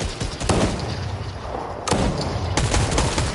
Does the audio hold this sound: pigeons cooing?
no